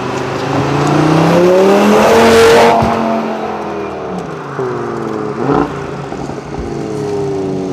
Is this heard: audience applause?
no